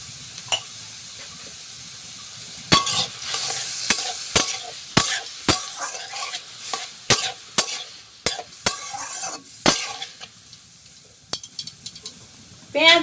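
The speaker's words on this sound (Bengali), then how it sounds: "পেঁয়াজ আর টমেটো আমি হালকা করে ভেজে নিয়েছি।" Chopped onion and tomato sizzle in a pan while a spoon scrapes and stirs, giving sharp intermittent clinks over a low continuous frying hiss, close up, with no talking.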